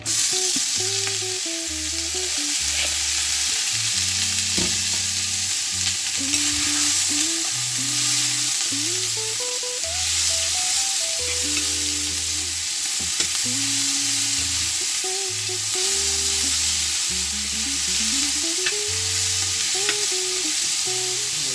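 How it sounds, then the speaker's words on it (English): Onions frying in olive oil for a vegetable soup, a steady close sizzle with repeated scraping stir strokes through the pan and a low humming tone underneath, no voices. "I'm adding a little olive oil just to fry up my onions. Now I'm gonna add my onions"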